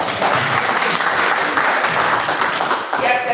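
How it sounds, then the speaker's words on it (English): An audience at a Nigerian facility management practitioners' gathering applauds steadily, a dense continuous clapping that carries through the whole short stretch. "let's give him a round of applause"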